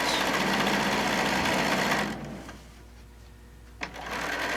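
A sewing machine runs a triple straight stitch around a tote bag sewn from fat quarters, humming loud and steady for about two seconds before stopping, leaving quiet room tone with a brief click near the end.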